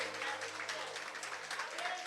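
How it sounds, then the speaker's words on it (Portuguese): Steady, dense applause from a large church congregation indoors during a sermon, continuous hand clapping at moderate volume without a break. "Você pode aplaudir ao Senhor bem forte."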